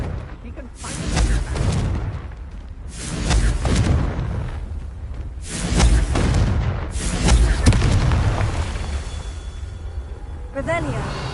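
A run of booming explosive blasts from the Confringo spell in Hogwarts Legacy, four or five heavy bursts spaced a couple of seconds apart, loud and close, each with a rumbling tail.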